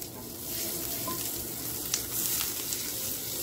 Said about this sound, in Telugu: పసుపు పచ్చి వాసన పోయే వరకు ఫ్రై చేయాలి